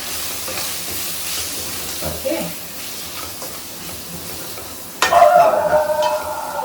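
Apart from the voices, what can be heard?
stirring spices with Kashmiri chilli in a frying pan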